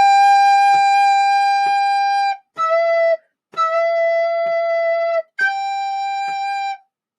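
A recorder plays a short melody of four separate, detached notes with brief gaps between them, clear and close with no other sounds.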